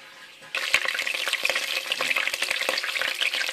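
Leek, celery, red and green peppers and bay leaves hit a hot pan for a sofrito in a seasonal vegetable and meat stew, bursting into a loud, dense, continuous frying hiss with crackles, up close.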